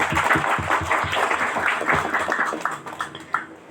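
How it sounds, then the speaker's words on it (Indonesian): Applause from a scout gathering's audience of senior Pramuka Pandega members, a dense patter of hand claps that thins toward the end, with a few louder isolated claps near the close. "Tepuk tangan, luar biasa."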